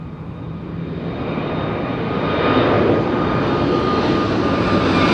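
A loud, steady aircraft engine roar builds slightly during takeoff at Madeira Island Airport, heard close and sustained with no voices over it.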